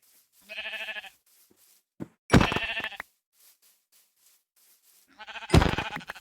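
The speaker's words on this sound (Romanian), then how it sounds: "Am găsit foarte multe oi." Sheep bleat in a Minecraft world, three separate short bleats spaced a couple of seconds apart, clear and close with silence in between and no talk.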